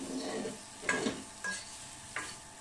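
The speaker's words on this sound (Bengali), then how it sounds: "প্রথমে হালকা একটু ভেজে নেচ্ছি" Broccoli and chicken fry lightly in a pan with a soft continuous sizzle, broken by about three scraping stirs from a spatula. No one speaks.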